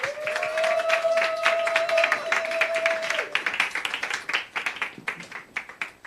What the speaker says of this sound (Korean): 우리 힙한 언다이트를 박수로 한번 모시겠습니다